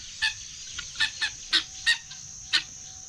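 Chickens clucking in short, separate bursts, about seven calls over a few seconds, fairly close and clear over a steady background hum, with no talking.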